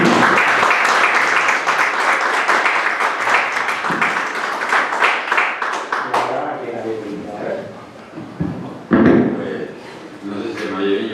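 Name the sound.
audience applauding after a play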